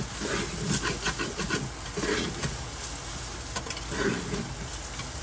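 Pepper shrimp fried rice being stirred in a pan with five spice, Chinese spice and adobo seasoning, a scraping, rasping spatula mix over a soft sizzle in irregular strokes.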